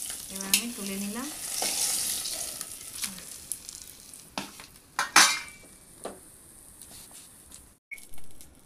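Katla fish frying in hot oil in a pan, a soft sizzle under sharp metal scrapes and clinks of a spatula or utensils lifting the fish, several distinct knocks spread through the stretch, with no talk.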